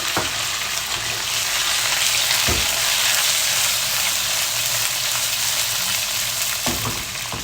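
Okra and tomato fry in a pan for sambar, a steady close sizzle with occasional soft stirring knocks and no talking.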